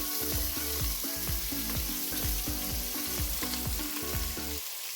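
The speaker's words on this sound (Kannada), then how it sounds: "ಈರುಳ್ಳಿ ಹಾಕಾದ್ಮೇಲೆ ಲೈಟಾಗಿ ಫ್ರೈ ಮಾಡ್ಕೋಬೇಕಾಗತ್ತೆ" Sliced onions fry in a hot pan for tomato pulao, a steady, loud sizzle with a rapid, regular series of stirring scrapes and clinks throughout.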